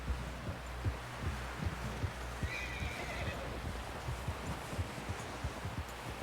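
A horse neighs and whinnies in Red Dead Redemption 2, with steady clip-clop hoofbeats running throughout, fairly close and clear.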